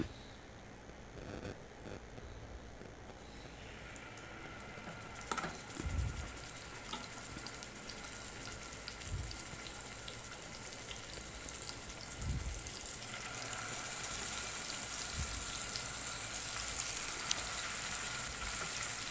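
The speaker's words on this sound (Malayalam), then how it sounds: "ഇനി നമുക്ക് അതിലേക്ക് പൊരിക്കാനുള്ള മീൻ ഓരോന്നായിട്ട്" Fish fries in hot coconut oil with a soft, steady sizzle that grows louder, broken by occasional low thuds and clinks nearby.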